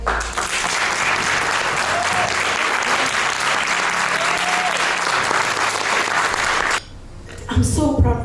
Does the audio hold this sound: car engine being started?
no